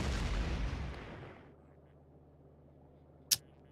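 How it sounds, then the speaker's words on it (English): A delivery cannon capsule solid rocket launches in a space video game, a loud booming roar that fades away over a second and a half, followed by a low hum and one sharp click. "Delivery cannon capsule solid rocket."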